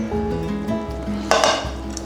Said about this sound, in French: On va transvaser nos pommes de terre.